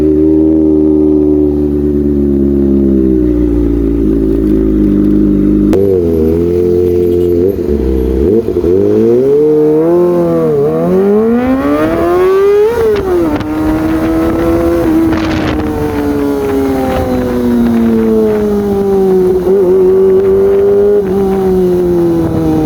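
A Kawasaki Ninja ZX25R motorcycle engine on a test ride screams loud and close, revving up through rising, falling gear-change sweeps, with a high-pitched wail that climbs and holds after each shift.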